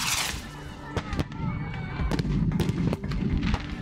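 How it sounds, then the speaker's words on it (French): Mortar shots and crowd-dispersal grenades burst at a violent protest clash in Sainte-Soline, France, sounding as repeated sharp bangs and pops at irregular intervals over a steady, dense roar of crowd noise and voices. "C'est un mélange des tirs de mortier des manifestants et des répliques des forces de l'ordre avec des grenades de désencerclement qui explosent au sol"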